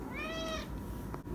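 A house cat gives a single clear, rising-then-falling meow, close and fairly quiet, over a faint indoor background with a small bump afterward.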